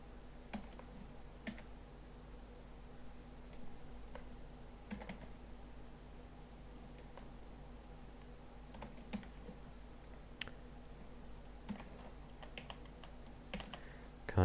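Keys are typed on a computer keyboard during character-sheet entry, with scattered, irregular clicks and taps spread across the whole stretch, fairly quiet and close, with no voices.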